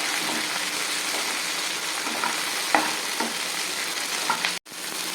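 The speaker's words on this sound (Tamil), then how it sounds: "தக்காளி அதே மாதிரி நல்லா வதக்கி விடணும்." Tomatoes sautéing in a frying pan for a noodle dish: a dense, continuous sizzle close by, with a few faint spoon knocks against the pan and a brief cut near the end.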